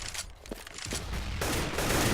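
A short, dense burst of Counter-Strike rifle fire at a professional match, rapid overlapping shots crackling loud and close with no voices over them.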